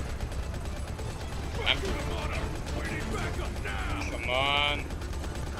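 Gunfire in the mobile shooter Modern Combat 5, clattering mechanical shots and ratcheting weapon sounds at moderate volume, mixed with game effects while someone speaks briefly.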